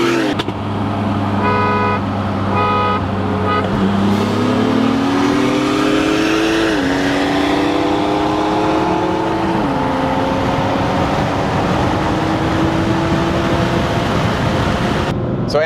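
A BMW M3 running on E85 fuel accelerates hard in a roll race, the engine note climbing steadily through several gear changes with brief dips between shifts, loud and continuous from inside the car, with a horn-like toot early on.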